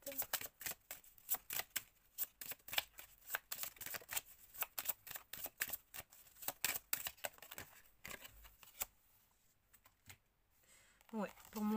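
Tarot cards are shuffled and drawn by hand, producing quick, crisp riffling snaps and slaps in close bursts. Pauses fall between the bursts, and a voice briefly sounds at the very end.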